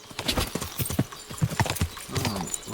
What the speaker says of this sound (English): I am so bad at riding a horse.